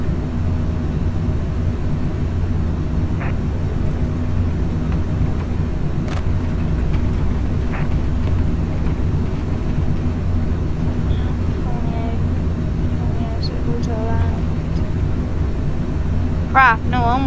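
Airplane engine droning steadily while flying low over Dublin in a flight simulator game, a continuous loud hum with brief tonal sweeps near the end and a voice talking intermittently.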